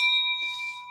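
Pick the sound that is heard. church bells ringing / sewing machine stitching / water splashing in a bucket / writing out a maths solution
church bells ringing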